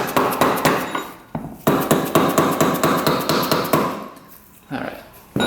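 A hammer drives a punch against a stuck part on an ATV motor, loud, sharp metallic blows in a fast, steady series with a brief pause, then a second run and a final strike.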